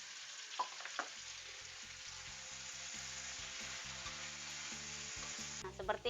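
Sardines stir-fried with vegetables in a pan, a steady close sizzle with a few scraping stir strokes and spatula clinks, and no voices.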